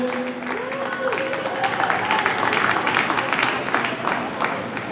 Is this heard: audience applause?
yes